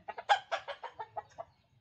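A run of about nine quick, clucking calls from chickens, fairly close and steady in rhythm, fading out toward the end with a faint low background.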